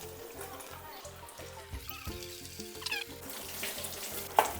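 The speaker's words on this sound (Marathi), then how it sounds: "आता तेल गरम झाल्याच्या नंतर त्याच्यामध्ये थोडे थोडे करून भजीसारखं ते मिश्रण सोडायचं." Spoonfuls of batter made from leftover rice drop into hot oil for bhaji and fry with a soft, quiet sizzle over a rhythmic low hum, with a sharp clink near the end.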